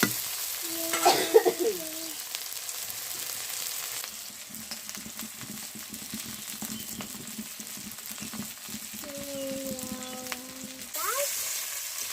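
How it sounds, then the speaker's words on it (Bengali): Onion lightly frying in a pan while cooking small fish with potato and tomato, a steady moderate sizzle with a few stirring scrapes, and brief tonal beeps or chirps near the start and end. "পেঁয়াজটা হালকা ভাজা দিয়েছি।"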